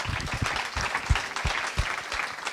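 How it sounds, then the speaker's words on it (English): Audience applause at a developer conference talk, a round of clapping with distinct individual claps standing out in an irregular rhythm, moderately loud and unbroken by speech. "So Mike, give another applause, just to balance."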